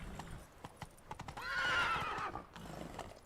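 Roach, the horse in The Witcher 3, clops her hooves in scattered steps and lets out a clear neigh midway, fairly quiet and close.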